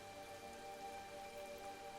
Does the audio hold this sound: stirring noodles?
no